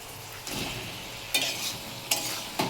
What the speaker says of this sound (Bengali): দিয়ে এর মধ্যে ভালো করে মশলাটা মাখিয়ে আরও 2 মিনিট একটু কষিয়ে নেব